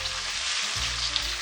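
Beef karahi fries in hot oil in a pan as it is stir-roasted, a dense, continuous close sizzle with faint scraping underneath.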